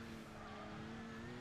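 A continuous high engine whine from racing cars at the Nürburgring in Gran Turismo 6 on PS3 hums steadily with tonal overtones, sounding synthetic like a game soundtrack.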